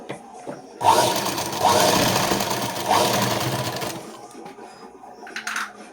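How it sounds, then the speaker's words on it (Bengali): Sewing machine stitching a Bombay-cut blouse, a rapid mechanical chatter for about three seconds with brief pauses, close and clear, then quiet handling noises. "একটা করে চাপ সেলাই মেরে নিলাম।"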